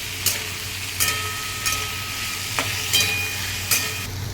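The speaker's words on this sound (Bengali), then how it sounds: "সমস্ত সবজিগুলো একটু ভাজা ভাজা হয়ে আসতে" Vegetables for sabudana pulao sizzle in a pan with a constant hiss, punctuated by half a dozen sharp scraping stirs at regular intervals.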